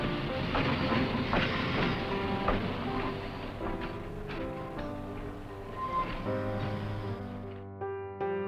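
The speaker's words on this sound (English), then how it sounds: "watch a few trains run by at a location around Lake Bluff, Illinois" A North Shore electric railroad train runs by near Lake Bluff, Illinois, with a rolling rumble and rhythmic clickety-clack of wheels over rail joints. The passage eases into a steadier humming tone before fading at the end.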